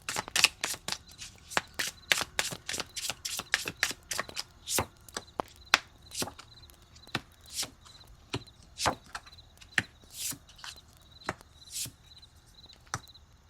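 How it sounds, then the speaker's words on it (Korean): Tarot cards are shuffled by hand in a series of close, crisp riffling slaps and taps, irregular at first and then more evenly spaced over about thirteen seconds, in a quiet room with no talking. "그러면 이어서 타로 카드도 좀 뽑아볼게요"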